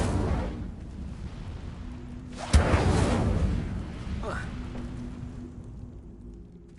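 The Incendio fire spell is cast in the wizarding game Hogwarts Legacy, a sudden whooshing burst of flame that flares and then fades into a rumbling fire over a few seconds, with a softer second burst afterward.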